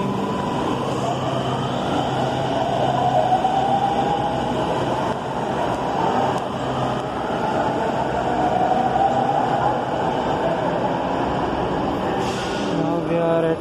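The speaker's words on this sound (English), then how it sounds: "our train is going." A Noida Metro Aqua Line train departing Pari Chok station rumbles steadily for the whole stretch, a broad continuous roar with rail noise, and faint voices murmur underneath.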